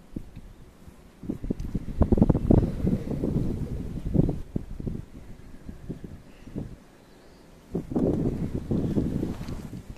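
Outdoor wind buffeting the microphone among cherry blossoms, rumbling in uneven low gusts that swell and fade, loudest early on and again near the end.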